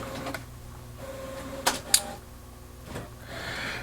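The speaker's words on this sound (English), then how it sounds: "All right, it's printing." An inkjet printer prints a label on photo paper, giving soft mechanical whirring with a few sharp clicks and clacks of the carriage and feed, fairly quiet and close with no voices.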